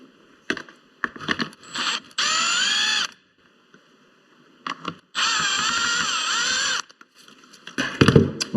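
A cordless power driver backs Torx 20 screws out of the grille of a 2015 VW Jetta, giving two sustained whirring runs of about a second each, close and fairly loud, with clicks and handling noises in between.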